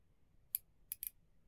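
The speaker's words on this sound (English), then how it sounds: "it's a stainless steel bezel insert, and it is 120 click" A stainless steel 120-click dive watch bezel is turned, giving three crisp, quiet metallic clicks up close, one single and then a quick pair, over near silence.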